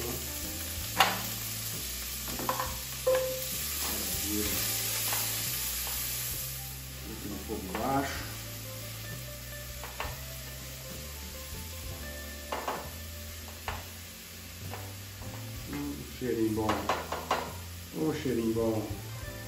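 Steady sizzling of onions frying in a pan, with occasional stirring scrapes and clinks of a utensil against the pan.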